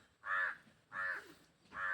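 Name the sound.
crow cawing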